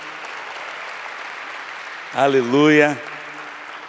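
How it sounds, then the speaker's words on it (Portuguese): Congregation applause at a church meeting, a continuous mid-level patter of clapping running the whole length, briefly overlaid by a voice calling out near the end. "Aplauda Jesus mais uma vez"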